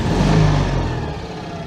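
A worn-out Citroën 2CV engine revs hard up close, its loud, buzzing mechanical whir peaking early and then easing gradually as the revs fall away.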